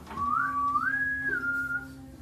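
A person at a tabletop fantasy game whistles to imitate a whistle from the forest: one clear rising two-note call held steady, then falling slightly, alone over a quiet room hum.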